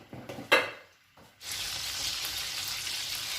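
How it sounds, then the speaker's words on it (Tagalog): Shrimp heads dropped into hot olive oil in a pan for stir-frying: a few clinks and stirring knocks, then a sudden, steady loud sizzle that continues to the end. "muling lagyan ng olive oil at ilagay ang mga ulo ng hipon. I-stir fry ang mga ito."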